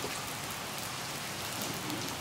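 Steady, dense rain pours down without a break, a wide even hiss of drops striking surfaces close by, with no voices over it.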